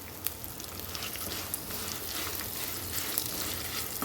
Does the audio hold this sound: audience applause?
no